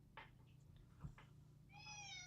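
A house cat meows once at close range, a rising drawn-out cry at the end, preceded by soft rustles and faint sounds over a low steady hum.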